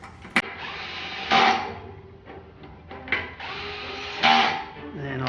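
A power driver whirs in several short bursts while tightening the brake rotor bolts on a 2018 Santa Cruz 5010 v2.1 aluminum mountain bike, close by, with small clicks and quiet talk between bursts.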